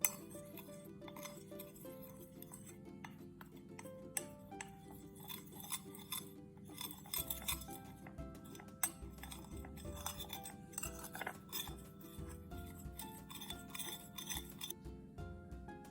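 A utensil clinks and taps against a glass container while a solution is stirred, a run of light, bright chimes and scrapes that come close and fairly soft, with no talking.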